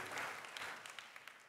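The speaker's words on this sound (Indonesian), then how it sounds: "Semua orang harus tepuk tangan buat Tuhan." Brief, fairly faint applause from a church congregation during a sermon, a short wash of clapping with a few distinct claps standing out as it fades.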